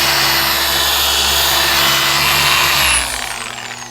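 A power polisher compounds scratches out of a vinyl wrap, its motor whirring loud and steady close by, then dropping in pitch as it winds down near the end.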